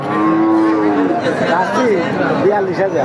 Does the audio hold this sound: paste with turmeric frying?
no